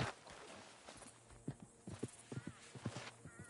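Horse hooves clip-clopping in Red Dead Redemption 2, a run of distinct, fairly close hoofbeats in an uneven walking rhythm over low background ambience, with faint voices nearby.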